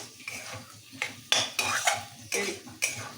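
A spoon scrapes and knocks against a pan while spice paste is stirred into vegetables and prawn stems, about six distinct strokes over a faint low sizzle.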